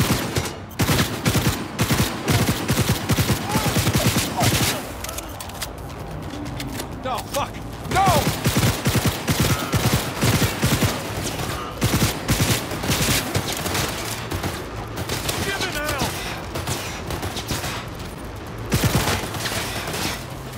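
Heavy gunfire in Cyberpunk 2077, repeated loud shots and bursts nearly filling the stretch, with brief lulls and mechanical clatter between volleys.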